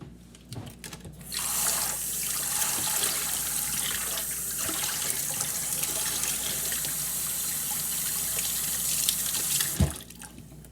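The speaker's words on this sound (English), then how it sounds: "Let me wash my hands." Hands being washed under a running kitchen tap, a close, steady rush of water pouring into the sink for several seconds, then the flow cut off with a brief thud and quiet.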